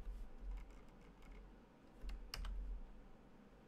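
Keys tapped on a computer keyboard while working in C# code, a handful of quiet, separate clicks with a sharper cluster near the middle, close and alone in a quiet room.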